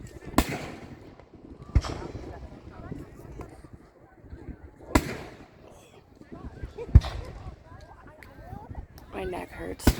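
Fireworks at a public display in Southampton go off as several distant booms and sharp cracks spaced a few seconds apart, with people chatting nearby between the bangs.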